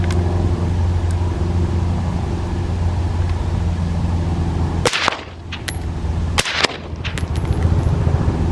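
Two sharp, loud gunshots from a Modern Gordon 14.5 rifle fired right-handed ring out about a second and a half apart, each followed by short echoing cracks over steady outdoor wind rumble.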